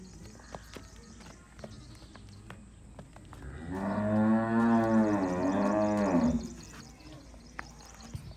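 A Cholistani Friesian cross dairy cow gives one long, loud, close moo in the middle of a calm farm scene, with faint knocks and shuffling around it.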